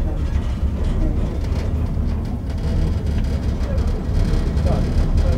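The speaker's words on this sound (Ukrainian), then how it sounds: "Так, швидкісний поїзд Hyundai." A Hyundai high-speed intercity train at a Kyiv station, bound for Dnipro. A continuous rail rumble and station clatter run throughout, with people talking nearby under it.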